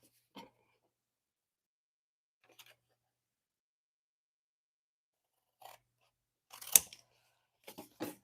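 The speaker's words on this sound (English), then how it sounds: "And then we're going to cut these guys away." Scissors snip out craft pieces at a crafting table, a few sparse, quiet cuts scattered through long pauses, ending in a brief flurry of sharper snips close by.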